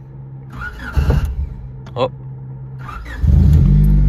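A car with a newly fitted ECU cranks on self-start, misfires briefly, then catches on the second attempt and settles into a loud, close idle rumble, with a man's short exclamation in between.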